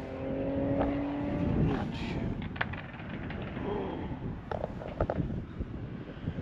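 Car with a loud, F1-like engine note passes by nearby, a rising and falling roar with sharp revving tones early on, followed by quieter rumbling and a few clicks.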